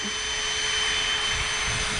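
Cooling fans whir loudly and steadily, a constant broadband rushing drone with a faint tonal hum and no breaks.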